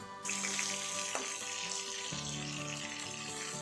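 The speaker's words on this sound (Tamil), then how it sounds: "பச்சை மிளகா மிளகும் நல்லா வதங்கிடுச்சு" Green chillies and pepper sauté in a pan for a biryani base, a steady hiss of frying with a few faint clinks.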